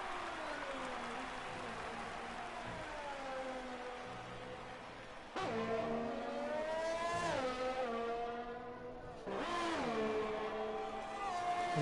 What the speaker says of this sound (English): Let's see what Cyrus Kane can do in the Williams as he's approaching the last 2 turns.